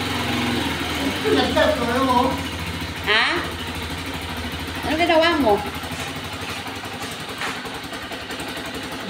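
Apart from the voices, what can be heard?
motorcycle engine started and running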